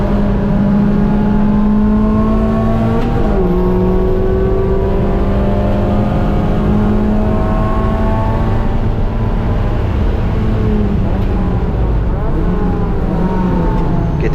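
A race car accelerates hard out of a corner on a track during a battle at NCM, its engine loud and close with rising, shifting tones throughout.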